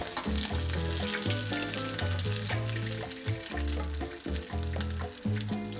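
Wagyu picanha sears standing on its fat edge, giving a continuous close sizzle and crackle under a musical backing track, with no one speaking.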